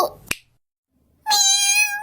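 An orange cat lets out one clear, fairly loud meow after a quick snap-like click and a short silence.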